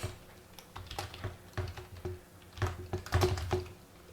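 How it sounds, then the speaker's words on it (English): Quick typing on a computer keyboard, a steady irregular run of close, light key clicks with a few slightly harder taps toward the end, heard alone without talk. "So what I'm going to do is I'm going to type in here"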